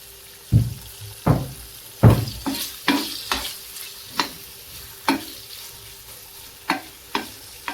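Gavran (country) chicken pieces frying in oil in a pan, seasoned with salt, giving repeated sharp sizzling bursts as pieces are stirred or turned, close and fairly loud against a quiet background.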